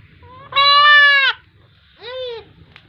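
Two clear bleats from newborn goat kids, a long wavering one followed by a shorter one after a brief pause, close and loud with no talk.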